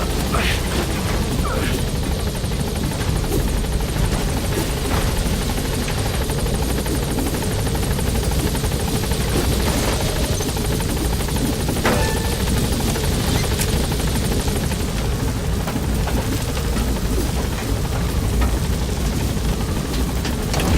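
A support helicopter in the video game Metal Gear Solid V: The Phantom Pain thumps its rotor continuously and loudly, with occasional bangs and brief voices faintly mixed in beneath the steady drone.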